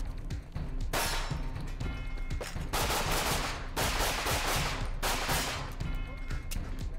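Rapid bursts of gunfire ring out on a competitive shooting stage as a shooter engages multiple targets, including a moving one; the strings of sharp, closely spaced shots are loud and near, broken by short pauses between volleys.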